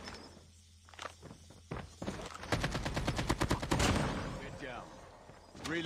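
Rapid bursts of automatic gunfire, including an AK-47, crackle loudly in the Call of Duty Mobile video game, mixed with footsteps and game sounds, while someone talks between the shots.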